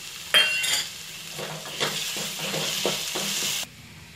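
Banana kofta curry sizzling in a pan while a spoon stirs and prods it, giving a steady frying hiss over several soft scraping taps, close and without voices.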